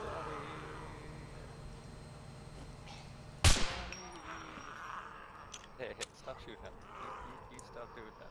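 A single loud gunshot cracks out in the SCUM survival game, followed by scattered fainter clanks and bumps, with people talking over the game sound.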